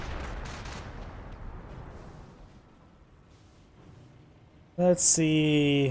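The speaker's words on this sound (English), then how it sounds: "Incendiary grenade there." Gunfire and bursts from an incendiary grenade in the Company of Heroes strategy game, a jumble of distant shots and rumbling fading to near quiet before a sudden loud, tonal burst of effects at the end; a voice speaks briefly.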